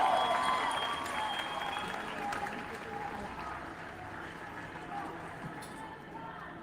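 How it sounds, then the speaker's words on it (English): Applause from a crowd at a march for Gaza ceasefire, sustained clapping that starts loud and slowly tapers off, with some voices mixed in. "If you know we'll win, clap it up for winners."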